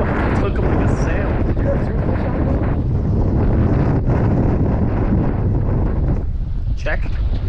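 Strong wind buffets the microphone aboard a charter fishing boat off Block Island, a loud continuous roar that fills the whole stretch, with voices talking over it.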